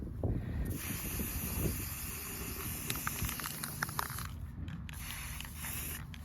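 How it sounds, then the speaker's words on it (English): A faint, continuous hiss from a spray paint can, with some light rustling and handling noise underneath, no voices. "get your spray paint, and let's make this black"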